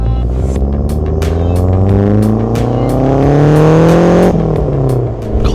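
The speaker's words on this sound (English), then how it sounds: "It doesn't sound perfect when I turn it on." A brand-new Lancia Delta's engine runs loud and close, rising through revs in smooth climbing sweeps before dropping back, with rapid ticking pulses over the drone and no speech.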